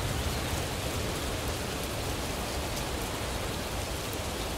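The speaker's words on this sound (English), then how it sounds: "As the rain pours down around you" Rain pouring down during a thunderstorm, a dense, even hiss of drops on surfaces that holds steady throughout without pauses, moderately loud, with no voices.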